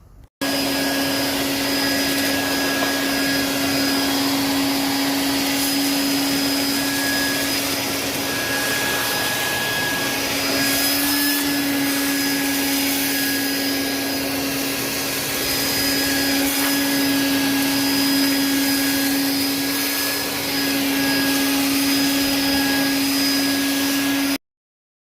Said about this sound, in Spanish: Vamos a limpiar con una aspiradora todo este vidrio antes de poner el otro.